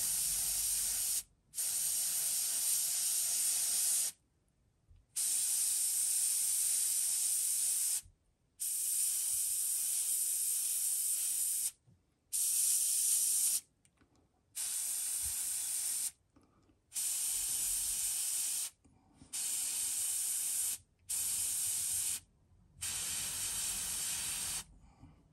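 White paint sprayed through a stencil onto a fishing lure gives about ten short, loud hissing bursts of a few seconds each, separated by brief silences.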